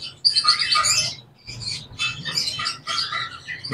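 Caged birds at a bird market, including a pair of common lutino cockatiels, chirp and twitter in dense, busy bursts, close and fairly loud, with a short lull partway through.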